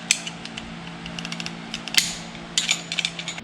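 A ratchet clicks in short irregular bursts while turning a hub nut on a Dana 60 axle, crisp close metallic pawl ticks over a steady low background hum.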